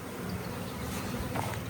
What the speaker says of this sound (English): There's bees everywhere.